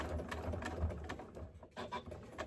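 A sewing machine stitches over the seam of a scrap-fabric zipper pouch, quiet uneven bursts of needle ticking and soft mechanical patter, fairly faint and close.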